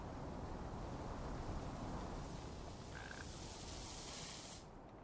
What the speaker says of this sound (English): Why do I feel like I'm hearing a frog?